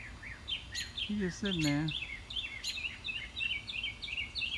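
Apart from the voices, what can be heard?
small bird calling while chasing an owl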